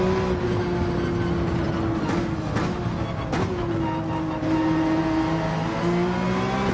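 Ferrari race car engine in Gran Turismo 7, a loud sustained whining drone that shifts pitch through a few quick gear changes, close and continuous with no talking.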